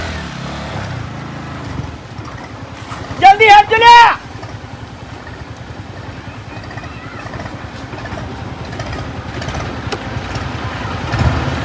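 Motorcycle engines rumble steadily nearby, with a brief loud horn-like burst and people talking over the running engines.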